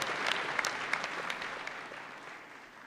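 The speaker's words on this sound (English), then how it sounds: "could we please get a huge round of applause for that great opening video?" Audience applause at a business luncheon and annual meeting, a dense, continuous round of clapping from a large crowd that fades gradually toward the end, with no talk over it.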